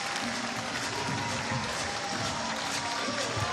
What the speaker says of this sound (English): Generous round of applause for both of them.